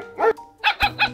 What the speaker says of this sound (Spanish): ¿Pero el chihuahueño sí llega hasta acá?